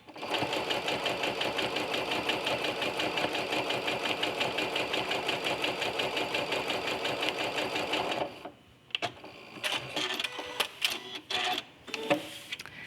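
A home sewing machine fitted with a walking foot stitches quilting lines across a quilt for about eight seconds, a steady, fast, continuous mechanical whirr, then stops, leaving only light handling clicks and rustles of fabric.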